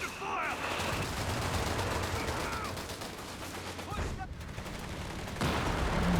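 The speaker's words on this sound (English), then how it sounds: "He's just shooting at the tech structure at this stage" Machine-gun fire from a Greyhound armored car in Company of Heroes 3, rattling in sustained bursts amid battlefield noise, with a voice talking over it.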